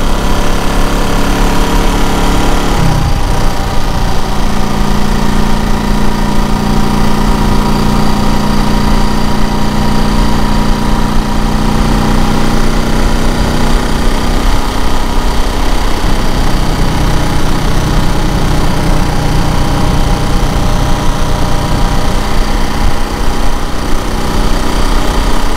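A motorcycle engine hums steadily while the bike is ridden, a continuous droning note with a brief shift early on and a few changes in pitch later, loud and close throughout with no talking.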